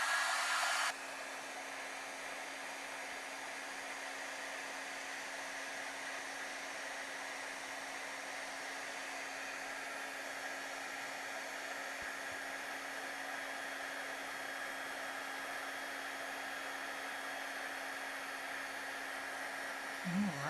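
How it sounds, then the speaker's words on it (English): A heat tool melting embossing powder on a cheeky Christmas card blows with a steady whirring drone that starts after a brief louder burst and runs on evenly for about twenty seconds. "And we'll get our heat tool and melt the powder."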